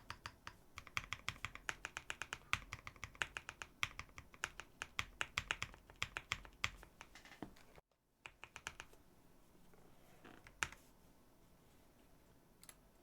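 A gasket-mount D45 mechanical keyboard with Aqua King switches and PBT keycaps clacks under fast, continuous typing. After a brief gap, only a few scattered keystrokes follow.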